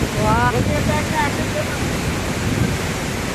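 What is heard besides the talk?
waterfall spray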